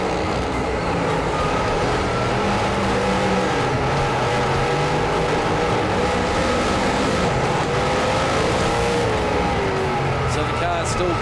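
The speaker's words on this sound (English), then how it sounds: "So the car's still going hard." Superstock race cars run hard at Paradise Valley Speedway, a loud continuous engine roar with shifting pitch, joined by a commentator talking over it.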